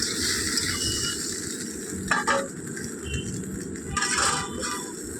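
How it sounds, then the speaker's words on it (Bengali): Okra stirs and fries in a kadai over a stove, giving a soft, continuous sizzle with two short scraping strokes of a utensil against the pan. "এটাকে একটু ভালো করে নাড়ে ছেড়ে ভেজে নেবো"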